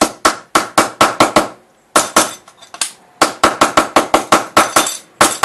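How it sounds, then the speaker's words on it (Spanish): Sharp metallic hammer blows ring out flattening a bent metal sheet, in quick repeated bursts, a pause, then more rapid strikes, loud and close. "lo que tenemos que hacer es darle martillazos aquí"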